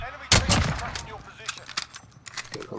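Gunfire in the video game Call of Duty: Modern Warfare, with a loud close burst followed by several rapid, sharper shots in quick succession.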